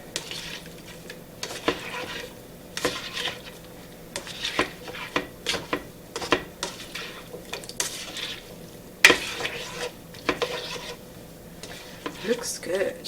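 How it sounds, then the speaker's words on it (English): Seasoning and sesame oil being mixed into potatoes in a dish, with intermittent scraping and clinking of a utensil against the dish in uneven strokes over a quiet sizzle. "Just a tad bit more sesame oil, and I'll just mix that really well"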